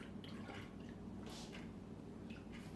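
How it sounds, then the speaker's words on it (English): Sweetened condensed milk pours from a can into a blender for flan, a quiet thick gurgling and dripping with soft wet splats, continuous at close range and without speech. "I'm gonna pour in a can of condensed milk"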